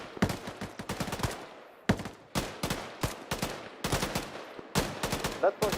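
Suppressive gunfire in the military shooter game Arma, repeated bursts of sharp rifle and machine-gun shots with short gaps between volleys, some rounds echoing off into the distance, fairly loud and close.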